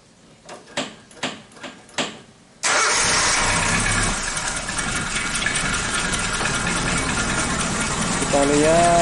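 Suzuki Katana car engine cranks with several short starter bursts, then catches and settles into a steady, loud idle that runs on to the end, with a brief voice near the close.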